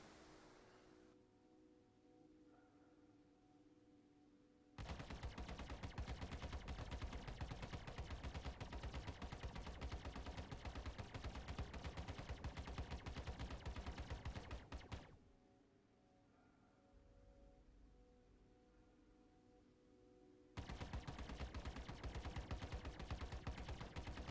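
Weapons on a Hornet Ghost ship fire in the video game Star Citizen. Two long bursts of rapid automatic fire are split by a short quiet gap, steady and loud, with no speech.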